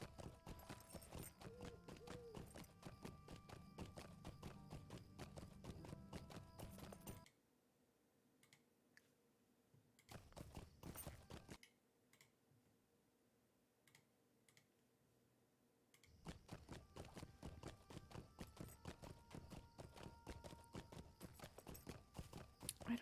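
Rapid, even hoof clicks of a galloping horse in the video game Lord of the Rings Online patter in two long runs, broken by a quieter gap with a brief burst.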